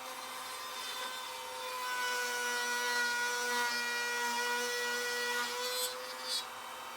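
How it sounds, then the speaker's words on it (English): Power tool cutting wooden tenons for a mortise joint on a jewelry box, a steady whining drone with sustained tones that swells slightly mid-way, with a few brief scraping touches near the end. "Cutting the tenons to fit the mortise rather than vice versa."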